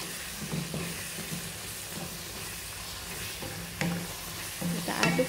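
Qurban meat being stirred in a pan as its liquid cooks off, a steady low sizzle with scraping stirs and a few louder clatters near the end.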